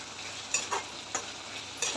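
Dried fish and kokum stirred in a hot pan, a quiet steady sizzle broken by four or five short scraping strokes, heard close up with no voices.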